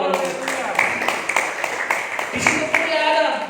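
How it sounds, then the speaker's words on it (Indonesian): A church congregation at a New Year worship service claps their hands for God, a dense patter of many hands under a preacher's continuing voice. "Tepuk tangan dulu buat Tuhan."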